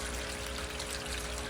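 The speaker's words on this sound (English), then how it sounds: "You can dump that out." Dirty fish tank water is poured out in a steady, close stream that keeps the same level throughout, with no talking.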